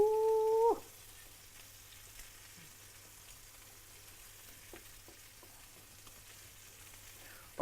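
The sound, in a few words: cream stirred into steak sauce, sizzling in pan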